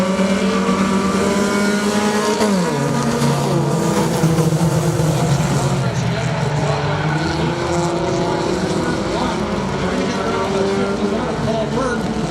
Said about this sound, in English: But look at that racer!